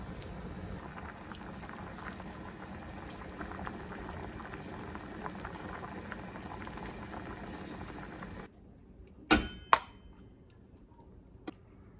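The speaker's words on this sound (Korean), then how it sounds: "이제 민어를 넣고 끓입니다" Steady bubbling of a pot of croaker fish soup at a rolling boil for several seconds, then it quiets to silence broken by a few sharp clinks.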